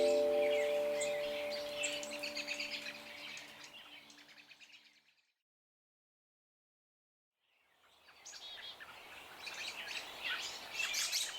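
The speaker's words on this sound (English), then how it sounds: "You can probably hear the birds chattering." Birds chatter and chirp in a small cottonwood grove, a busy outdoor chorus that fades into silence for a couple of seconds before the chirping swells back.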